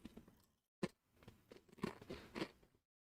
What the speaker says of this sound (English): I'm just going to be chewing chips until I get a glitch.